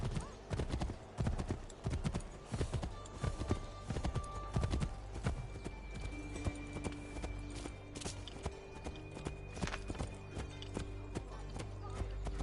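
Horse hooves in the video game Assassin's Creed III clop in a brisk, continuous rhythm, loud and close, with ambient background tones underneath.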